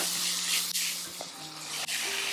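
Ginger garlic paste and coconut for misal curry sizzling steadily in a hot pan, a continuous close hiss with a couple of brief dips.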